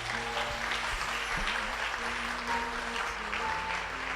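A church congregation applauding steadily, with many hands clapping together in a continuous, even wash of sound and faint sustained tones behind it.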